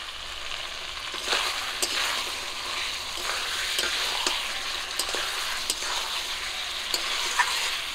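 Onion paste frying and sizzling in a pan for mutton kosha in a Bengali village kitchen, a steady close hiss broken by occasional stirring scrapes, with no talking.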